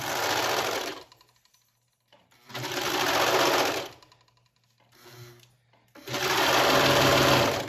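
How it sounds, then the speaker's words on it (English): Serger overlock machine sewing 1-inch elastic onto a garment, running in three loud whirring bursts separated by pauses, with a short quieter run in between. "I'm going to pull on my garment so that it lays flat to my elastic as I serge."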